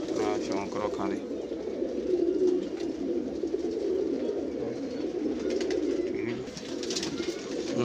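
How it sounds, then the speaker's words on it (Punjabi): Pigeons, including a red-eyed blue kamagar pigeon, cooing steadily in a low, continuous throaty murmur throughout, close by, with voices talking over it. "ਨੀਲਾ ਕਮੱਗਰ ਕਬੂਤਰ ਹੈ"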